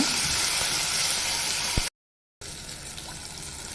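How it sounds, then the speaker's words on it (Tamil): Onion, tomato and curry leaves sauté in a pan for a Tamil egg curry, giving a steady hiss and sizzle that cuts out briefly, then resumes more quietly. "ஒரு தக்காளி சேர்த்துக்கோங்க தக்காளியும் நல்லா வதக்கி வச்சுக்கோங்க"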